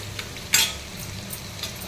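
Cucumber pieces drop into a hot pan with a single sharp clatter, then settle into a soft, low sizzle as they are stirred while cooking; quiet overall with no talking.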